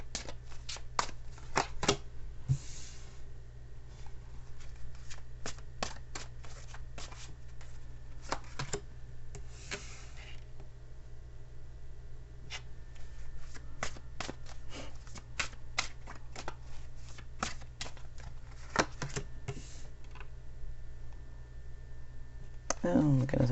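A Chinese tarot deck riffled and shuffled repeatedly, crisp card flutters and taps in bursts over a steady quiet background, close by, with a voice talking at times.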